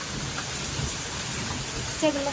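Heavy monsoon rain in Baramati pours down in a dense, steady hiss, with a brief faint voice near the end.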